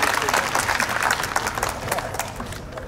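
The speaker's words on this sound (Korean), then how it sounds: "다시 한번 뜨거운 박수 부탁드리겠습니다." An audience at the opening ceremony of a biennale at the Gimhae Arts Center gives enthusiastic applause, a loud and dense wash of clapping that slowly fades, with voices mixed in.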